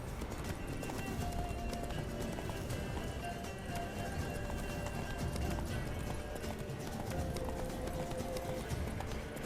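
Hooves of Roach, the horse in The Witcher 3, clip-clopping in a fast galloping rhythm, faint and steady throughout alongside background game sounds.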